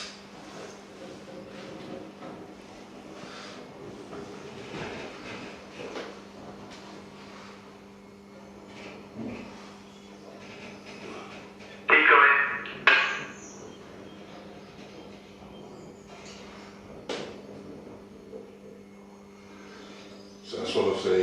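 A re-gauged battery electric locomotive runs on a heritage railway on a wet day, giving a steady low electric hum with faint rattles and a few louder knocks and clatters near the end.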